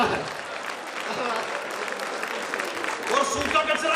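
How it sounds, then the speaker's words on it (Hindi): An audience at a Hindi poetry event (kavi sammelan) applauds in a steady, dense wash of clapping that swells near the end, with a voice faintly audible underneath. "जोरदार तालियां एक बार।"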